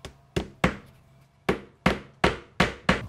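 A hammer taps against a mold to snug it into place, seven sharp close knocks in an uneven rhythm, loud and alone with no talk.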